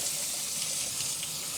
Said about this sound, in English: What I have found works just as well is actually just running it underwater with the higher pressure nozzle